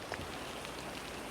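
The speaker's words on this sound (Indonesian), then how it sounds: "sebelum ini hujannya semakin deras Mas Angga" Steady rain falls outdoors as a dense, even wash of drops on surfaces, holding a constant loud level throughout with no voices.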